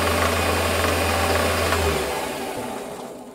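A metal lathe runs at about 1100 RPM while a fresh carbide tip turns aluminium, giving a steady loud machine hum with a faint cutting hiss that winds down near the end.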